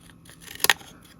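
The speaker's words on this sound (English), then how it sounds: "I'm just going to get it with a pair of scissors" A pair of scissors makes a quick double snip while trimming the edge of craft paper on a Halloween treat box, crisp and close in an otherwise quiet moment.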